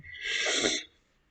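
A single sharp sneeze-like burst of breath, close and fairly loud, lasting under a second and followed by near silence, in a quiet indoor setting.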